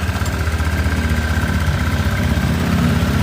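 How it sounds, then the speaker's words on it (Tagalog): A Honda Click V1 scooter engine idles steadily up close, a loud, even mechanical rumble with no pauses throughout. "narinig kong gayon tumunog ang makina"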